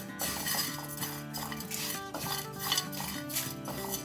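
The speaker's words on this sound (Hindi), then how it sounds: "इसको डाल दें और इसको लो फ्लेम पर ड्राई रोस्ट कर लें।" Whole cinnamon, cardamom and dried red chillies being dry roasted in a pan over a low flame, with steady scraping and stirring and light clinks of a spoon against metal, close and continuous.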